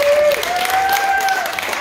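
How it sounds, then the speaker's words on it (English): Studio audience applauding a man named Chris as he is called up on a game show, a steady wash of clapping with a sustained musical tone running beneath it. "Let's give Chris a round of applause."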